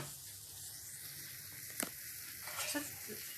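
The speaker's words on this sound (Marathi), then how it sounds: "ती भेंडी अशी छान परतून घेतली आहे मसाल्यांमध्ये" Okra frying in a spice masala in a pan, a steady soft sizzle with brief stirring scrapes near the end, close and fairly quiet.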